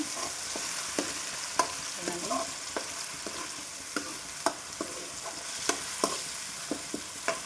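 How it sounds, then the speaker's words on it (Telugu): Masala spices frying in oil in a pan for fish curry, a steady close sizzle with a spoon scraping and tapping the pan at a loose, regular pace. "ఈ మసాలా కూడా ఇలా వేసేసి వేయించుకోవాలి మనం"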